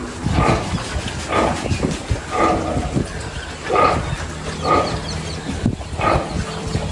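A dog barks repeatedly in a steady rhythm, roughly once a second, loud and close against background noise at a pig-rearing farm.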